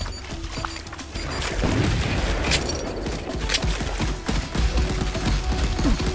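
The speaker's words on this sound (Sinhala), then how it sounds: "ඒ තව බෝම්බයක් දානවා." Bomb explosions in the video game Nero boom in a dense, continuous barrage of loud low blasts and crackling debris, with no voices over them.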